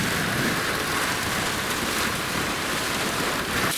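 Heavy rain driven by wind during a thunderstorm, a dense, steady downpour roaring evenly throughout with no voices.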